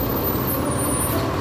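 A Transport Jaya intercity bus running from West Sumatra toward Jakarta hums loudly and steadily at close range, a dense low engine and road roar with no voices.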